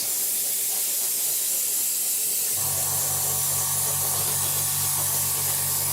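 Light matte coat of spray paint applied to a Revell 1/72 Transall model kit, a loud steady aerosol hiss that grows fuller partway through as a low compressor-like hum joins in.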